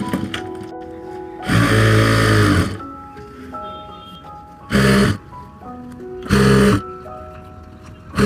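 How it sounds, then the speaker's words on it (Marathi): A sewing machine stitches the centre seam of palazzo pants in three loud, close runs, one longer and two shorter, with quiet pauses between them and faint tonal music in the background. "असं ताणून ही मधली शिलाई आपल्याला मारायची असते"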